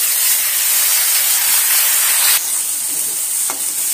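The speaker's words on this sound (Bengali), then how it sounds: "টমেটোটা দিয়ে সুন্দরভাবে ভেজে নিয়েছি" Finely chopped tomatoes frying in a pan after nigella seeds, producing a loud, steady close sizzle and hiss that drops a little partway through, with a small clink.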